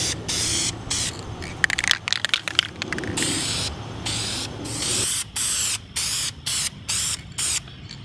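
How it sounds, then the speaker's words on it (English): A spray paint can hisses black paint onto a skateboard, first in a long continuous spray with some rattly scraping, then in a series of short, evenly spaced bursts, loud and close. "You really have to be patient when you're spray painting."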